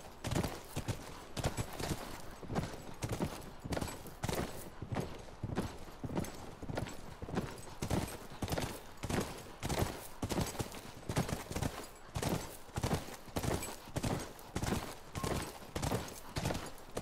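A horse's hooves clip-clop at a steady trot in the video game The Last of Us Remastered, an even rhythmic stream of fairly loud hoofbeats that goes on throughout with faint background sound.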